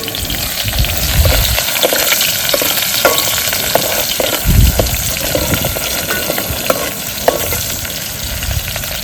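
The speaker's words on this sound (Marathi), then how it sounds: "आपला हा कांदा कांदा मस्त आता आपण हलवून घेऊ." Onions and whole spices sizzle loudly in a pan for an outdoor rainy-season chicken cookout on a hill, with a steady frying hiss and occasional scrapes and thumps as a spoon stirs them.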